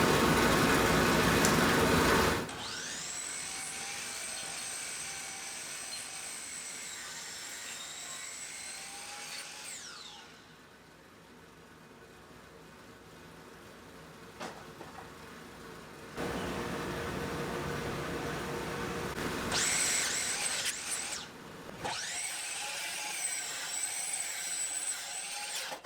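A power saw cuts cherry wood boards to size for a CNC, with a loud, steady high-pitched whine in two long passes separated by a quieter stretch of lower machine hum.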